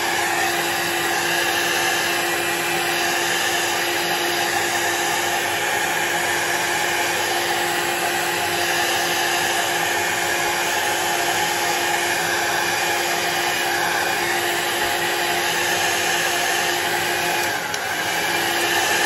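Hair dryer blowing over an alcohol ink painting, a continuous loud close airy roar that holds steady throughout with only a brief dip near the end.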